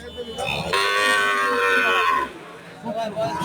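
A red Sahiwal cow lets out one long, loud moo nearby at a cattle fair, with people chattering around it before and after the call.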